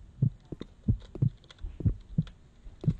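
A heartbeat effect from the video game Grounded thumps in a steady, deep rhythm of paired beats, about two per second, clear and alone.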